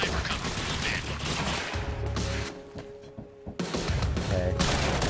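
Gunfire in a Quantum Break firefight, including sniper fire. Dense, loud bursts of shots go on almost without a break, with a short lull near the middle.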